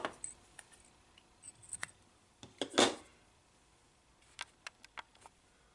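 Small scissors trim the tag end of thread while tying a fly, giving a few crisp, close snips and clicks scattered among quiet handling sounds.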